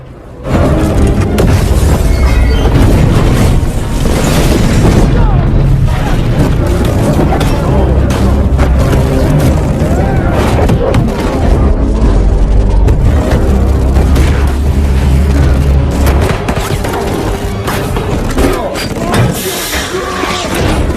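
Loud film explosions as a power plant is blown up, a dense, roaring run of booms and heavy thuds rumbling almost without pause.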